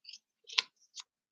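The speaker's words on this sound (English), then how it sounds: "So you just take your mat piece and cut it" A mat piece for a butterfly fold is cut in half with scissors: a few quiet, crisp snips spaced a fraction of a second apart, close and otherwise silent.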